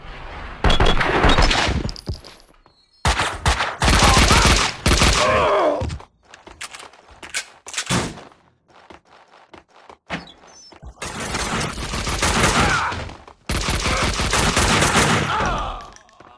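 Bursts of gunfire from Max Payne 2 on Xbox, several loud volleys of rapid automatic fire broken by short pauses, with sustained shooting running through the second half.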